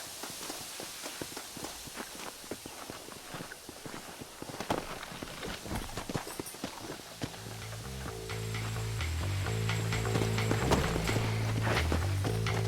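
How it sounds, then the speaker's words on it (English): Horse hooves clip-clop steadily in the Red Dead Redemption video game, close and rhythmic, with a low droning music bed swelling in beneath the hoofbeats during the second half. "Come on, horses are over here."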